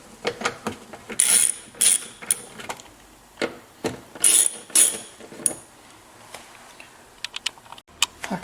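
Seven-millimetre window regulator screws on a C5 Corvette being run down with a ratchet: bursts of quick, close mechanical clicking come in several short bouts separated by pauses.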